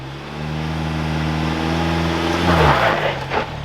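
A Ford Bronco with a 2.7 four-cylinder engine revs loudly and steadily as it climbs a large rock off-road, its engine note holding strong and then rising into a harsher surge near the end.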